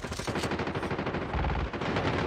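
Rapid automatic gunfire from the mobile shooter Call of Duty Mobile during a battle royale match, loud bursts of repeated shots running continuously through the moment with no talking.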